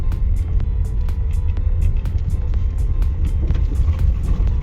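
Low road rumble fills the cabin as a 2019 Mazda CX-9 2.5T Grand Touring drives over an uneven surface, with frequent small knocks and thumps from bumps.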